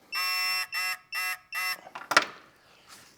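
A digital tool used in work on the motor mounts of a 2005–2010 Mk5 VW Jetta gives four steady electronic beeps in a regular rhythm, close and clear, followed by a few brief clicks and handling knocks.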